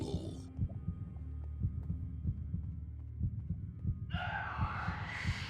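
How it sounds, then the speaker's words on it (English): Heartbeat effect in Minecraft, a steady low thumping pulse repeating about twice per second under a humming drone, with a burst of hissing noise near the start and end. "Listen to that heartbeat."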